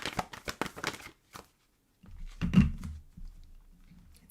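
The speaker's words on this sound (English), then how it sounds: "Let's get one more shuffle" A tarot card deck being shuffled: a quick run of papery riffling clicks, a pause, then a softer shuffling rustle, close and quiet.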